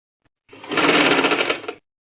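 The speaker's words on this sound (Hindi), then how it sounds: "अब हम इसकी ये सिलाई लगाएंगे और सिलाई हमने सीधी साइड पे पट्टी रख के लगानी है" A single short, loud burst of sewing machine whirring lasting just over a second as a strip is stitched onto a frock neckline, close and alone, with silence before and after.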